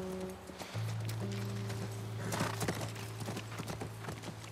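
Horse hooves clopping in a brisk, steady rhythm close by, over a low sustained drone, in the video game The Last of Us Part I.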